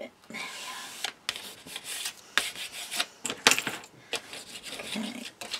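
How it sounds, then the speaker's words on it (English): Paper being burnished down by hand onto a handmade baby album, heard as a series of close, dry rubbing and scraping strokes in irregular bursts with brief pauses between them. "burnish that down really well"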